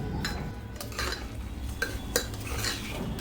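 Moong dal khichdi stirred in a pot, with a spoon scraping and clinking against the metal in soft, uneven strokes under a steady low background.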